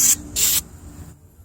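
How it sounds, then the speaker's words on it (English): Two short bursts of penetrating oil sprayed from an aerosol can onto a collar nut and bolts on the brakes of a 1972 Arctic Cat Lynx snowmobile, close and loud, each hiss lasting a fraction of a second, with a brief pause between them. "I'm going to get myself some penetrating oil here, and I'm going to spray that right here"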